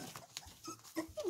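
Sheltie puppies whimper and squeak in short, high, close cries, a few overlapping yelps over about a second.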